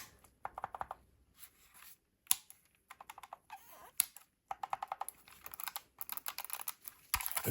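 Game controller buttons are pressed in quick, crisp clicks, close and quiet, arriving in irregular bursts with short pauses between them and no talking.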